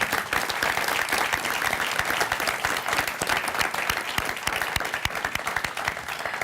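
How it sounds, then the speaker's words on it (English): A studio audience at a San Diego mayoral debate held at San Diego State University applauds steadily, a dense and loud wash of clapping that holds evenly throughout with no speech. "This time you can applaud for yourself."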